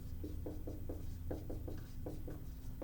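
Marker or chalk strokes on a classroom board during a history lesson, a run of short scratchy squeaks in bursts of two or three, close and steady over a constant low room hum.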